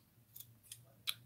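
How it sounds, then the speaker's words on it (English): Three crisp snips from expensive tailor's fabric scissors, spaced about a third of a second apart and quiet and close, the last one sharpest, with no talking. "tailored scissors"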